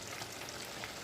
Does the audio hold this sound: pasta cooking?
yes